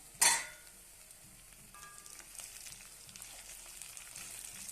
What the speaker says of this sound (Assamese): এতিয়া ভালদৰে লৰাই মই ঢাকন মাৰি দিম।